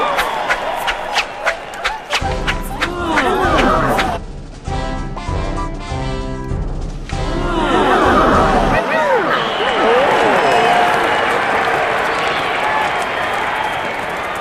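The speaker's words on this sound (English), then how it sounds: "Crowd." A crowd murmurs and stirs at the circus in a Dr. Seuss 'If I Ran the Circus' app, with busy layered chatter and a stretch of music-like sound in the middle, loud throughout and mixed with a voice.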